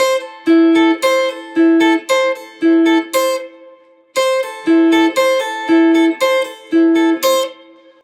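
A plucked guitar repeats a short, bright phrase of quick notes, played twice with a brief pause between, loud and clear with no talking.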